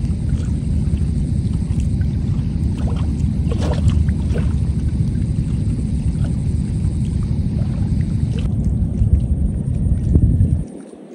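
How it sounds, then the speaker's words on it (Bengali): River waves slap and wash against a wooden boat on the Jamuna, a steady, close, low churning of water with no talk, cutting off near the end. "ঢেউগুলো নৌকার সাথে এসে আছড়ে পড়ছে, সেই শব্দ অসাধারণ, খুবই উপভোগ্য।"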